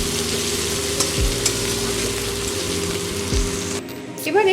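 Diced onions and garlic frying in oil in a home kitchen pan, a steady loud sizzle with a couple of stirring scrapes, running alone without speech throughout.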